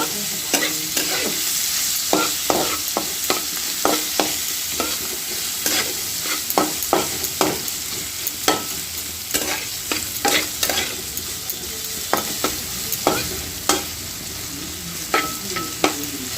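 Thinly sliced onions sizzle in a pan, with repeated sharp scrapes and clinks of stirring over a steady frying hiss, close and clear with no voices.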